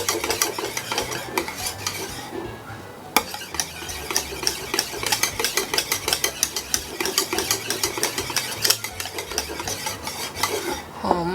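Butter melting in a pan for chocolate truffles, stirred with a rapid, repeated scraping and clicking of the utensil against the pan, loud and close, with a brief pause partway through and no talking.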